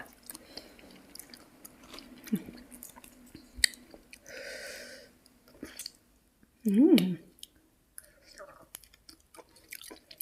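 Someone eats goose barnacles with quiet, close, intermittent wet chewing and biting sounds, broken by soft speech and one louder vocal burst.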